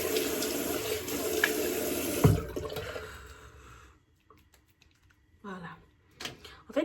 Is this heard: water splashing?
yes